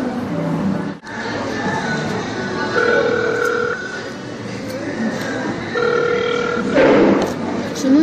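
A phone call rings out in repeated long, steady tones with gaps between them, fairly clear over a busy, noisy room.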